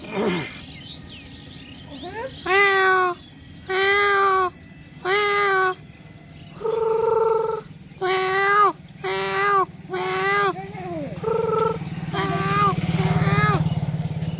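A person imitates a cat, giving about ten drawn-out meows in a row, each separated by short pauses, over a faint steady background hum.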